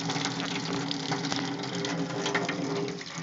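Spring water gushing out of a pipe on a rural cabin's spring-water system, a busy splashing, burbling flow with a faint mechanical whir, steady and fairly close, with no talking.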